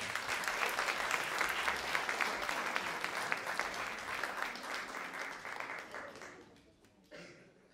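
Audience applause at a music school's end-of-year concert, a dense sustained clapping that fades toward the end before a brief final burst.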